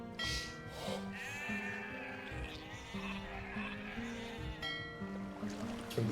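Sheep bleat several times in Age of Empires II over a steady wash of water and ambient game sounds, fairly quiet and moderately distant.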